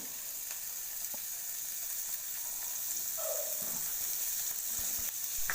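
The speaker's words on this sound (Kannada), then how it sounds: "ಎಲ್ಲವನ್ನು ಹಾಕಿ ಚೆನ್ನಾಗಿ ಟೊಮೊಟೊ ಮೆತ್ತಗಾಗುವವರೆಗೂ ಬೇಯಿಸ್ಕೊಳ್ಬೇಕು ಉರಿಯನ್ನು ಲೋ ಫ್ಲೇಮಲ್ಲಿ ಇಟ್ಕೊಳ್ಳಿ" Tomatoes, onion and garlic frying over a low flame in a pan for a sprouted-bean sambar, giving a steady, close sizzle with a few faint clinks and no talk.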